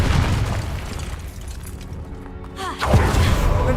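A Confringo fire spell bursts in the wizarding game Hogwarts Legacy, a single booming blast at close range with a crackling tail, set against steady game ambience.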